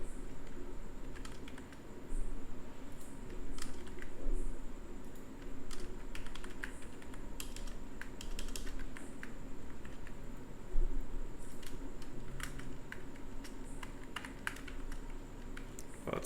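Rapid, steady typing on a computer keyboard while coding, close and clear, continuous irregular key clicks throughout with no talking.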